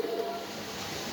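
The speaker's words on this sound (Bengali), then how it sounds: "আমি দেখাচ্ছি একজোড়া আইসবার দামাসিন মাস্টার পেয়ার" A pair of Ice bar Damascene pigeons at a pigeon farm gives a low, soft coo, close and brief, with a steady hiss of background noise behind it.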